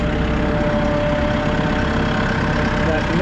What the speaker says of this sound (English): This is a very, very quiet tractor.